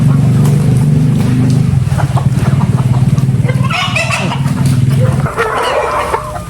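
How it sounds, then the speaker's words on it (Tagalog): Chickens cluck close by over a loud, steady low engine hum, with a few sharper squawks and hen calls toward the end. "Dami ng manok."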